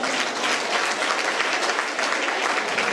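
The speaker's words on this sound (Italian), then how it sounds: "Un applauso." Dense, continuous applause from a crowd at a festival selection evening, a thick even wash of many hands clapping at once, loud and sustained with no voices over it.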